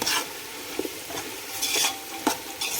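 Food frying in a pan is stirred to keep it from burning, with scraping strokes and soft sizzling spread over a few seconds, close and moderately loud with no talk.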